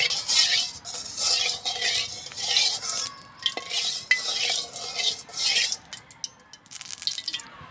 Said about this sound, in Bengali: ডিমটা একটু হালকা ভাজি করে নিই।